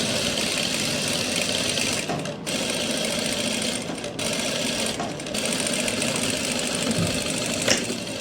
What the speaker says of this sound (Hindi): नीचे आपने आधा इंच की सिलाई लगा लेनी है।